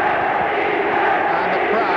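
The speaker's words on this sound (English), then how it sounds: "And the crowd cheering England now, trying to get some action" A football stadium crowd at an England versus Scotland match roars steadily, a continuous wall of distant massed voices with no single voice standing out.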